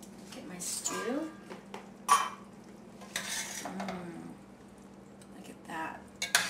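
Stew of artichoke hearts being ladled into a bowl beside rice, with soft scraping and clinks of a spoon against pot and dish, a few sharper knocks, and a person talking over it.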